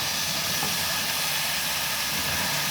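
Cauliflower and potatoes sizzling in a hot pan for a spiced gobi aloo sabzi, a steady broad hiss that holds level throughout without any talk.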